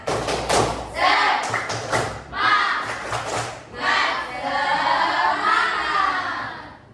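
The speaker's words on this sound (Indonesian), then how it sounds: "Oke, kita mulai. Tepuk semangat." Students in a class clap out the rhythmic tepuk semangat spirit routine, sharp patterned claps in quick sets together with loud group chanting, close and energetic.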